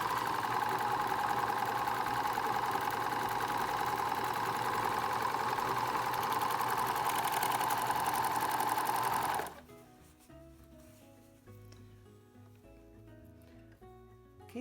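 A serger stitches and trims the last edge of an 18-inch cloth napkin, running in a fast steady mechanical whir for about nine seconds before stopping, with faint handling noises afterward.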